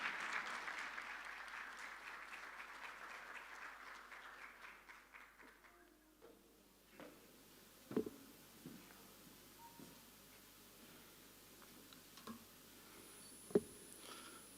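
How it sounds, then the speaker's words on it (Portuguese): Applause welcoming Brazil's minister at the Brazil–Chile forum on energy and strategic minerals, a broad wash of clapping that fades out after about six seconds, leaving a quiet room with scattered knocks and small noises. "Le damos un gran aplauso y muy bienvenido a Chile."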